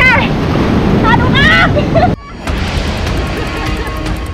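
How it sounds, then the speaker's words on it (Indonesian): A big ocean wave crashes against a fisherman's boat on the Banten coast, a loud broad roar of surf and wind that cuts off abruptly midway and gives way to quieter rushing water, with a voice shouting over it. "Tiba-tiba satu hantaman ombak besar datang dan hampir menyeret saya."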